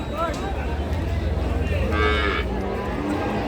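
At a crowded cattle market at Raniganj haat in Dinajpur, one Sahiwal cow gives a clear, loud moo, heard over a steady murmur of voices and low crowd noise.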